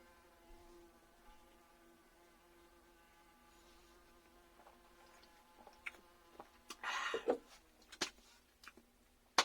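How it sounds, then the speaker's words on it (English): A wasp buzzing indoors, its faint drone rising into a louder close pass near the end, with scattered small clicks and knocks over a quiet humming room. "Raymond the Wasp is just coming in."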